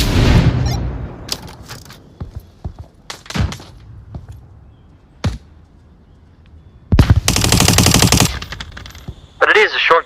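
Gunfire in the Onward virtual reality shooter, with sharp single shots scattered across the stretch, then a loud sustained burst of rapid automatic fire near the end, close and punchy with quiet gaps between.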